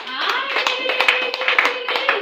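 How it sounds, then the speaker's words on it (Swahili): Sustained applause from a church congregation, steady clapping layered with voices and cheering. "Muongeze tena Yesu makofi."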